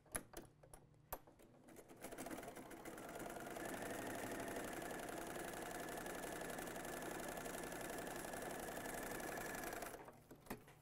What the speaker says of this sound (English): I'm going to sew down the right hand side of that fabric.